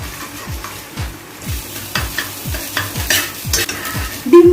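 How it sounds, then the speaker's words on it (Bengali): Two eggs with a pinch of salt fry in oil in a wok, a steady sizzle broken by repeated rhythmic scraping strokes of a spatula against the pan, close and clear with no talking. "2টো ডিম ভেজে নেব।"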